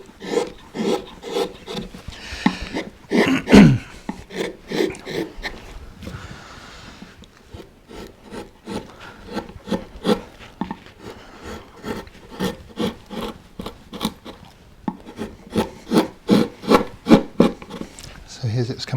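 Rhythmic rasping strokes of a carving tool slicing through wood while carving acanthus leaves, close and steady, with short pauses between bursts of cutting.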